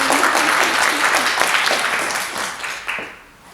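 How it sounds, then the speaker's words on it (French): A crowd claps together in a thick, sustained round of applause that stays loud before thinning and tapering off toward the end. "Applaudissements pour elles, s'il vous plaît."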